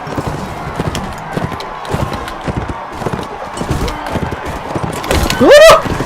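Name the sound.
horse galloping in a video game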